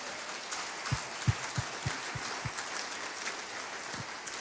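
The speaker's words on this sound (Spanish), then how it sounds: "Dale más fuerte ese aplauso al Señor." Congregation applauding during an evangelical church service, a faint, steady wash of clapping heard at a distance with a few sharper claps standing out.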